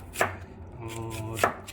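Two sharp knife strikes hit a cutting board about a second apart as an onion is sliced thinly, with quiet rustling between them.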